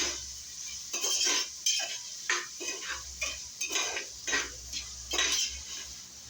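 A spoon scrapes and clinks against a pan while garlic-ginger paste and curry leaves are stirred together for veg pulav, producing repeated metallic scraping strokes in an irregular rhythm over a faint background hum, with no talk.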